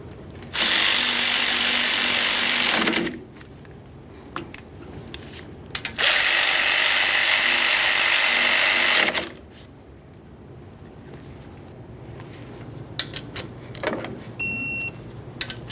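A power tool drives the front brake caliper slider mounting bolts on a 2015-2020 Ford F-150, in two loud, sustained whirring bursts of a few seconds each, separated by quieter clinks and shop noise.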